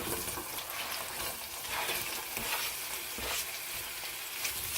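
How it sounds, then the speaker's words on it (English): Onions fry in a pan for caramelizing, a dense, steady close sizzle with slight swells and crackle, no voices. "And we are going to caramelize these onions."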